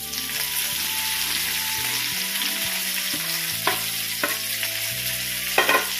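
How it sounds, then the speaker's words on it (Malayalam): Pieces of fried chicken are stirred into a hot pan of sizzling gravy base, a steady loud fry hiss with scraping spoon strokes and a few sharper clinks near the end, no voices. "ബാക്കി ഇപ്പോൾ വറുത്ത ചിക്കനൊക്കെ ഞാൻ ഇതിലേക്ക് ചേർക്കാൻ പോവാണേ."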